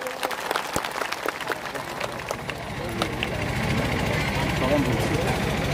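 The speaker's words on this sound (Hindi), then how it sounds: "जोरदार तालियों से स्वागत कीजिए।" An outdoor crowd claps to welcome a speaker at a village tribal day gathering, scattered sharp claps at first that thicken into a steady round of applause over a low engine-like rumble.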